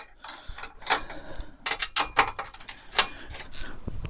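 Metal bolts, 16 millimetre nuts, are backed out of a winch fairlead with a ratcheting tool, giving irregular close clicks and short ratchet bursts with small clinks over a quiet background.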